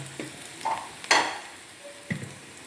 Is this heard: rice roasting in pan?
yes